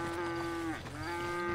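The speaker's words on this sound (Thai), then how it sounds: "น้องวัว" A cow in the GTA V video game lets out a single close, loud, drawn-out moo with a steady low tone that briefly dips before resuming.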